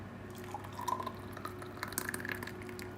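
Green peppercorn sauce made to go with a rib eye steak pours into a jug, a close, continuous liquid trickle with small drips and glugs, and no voices.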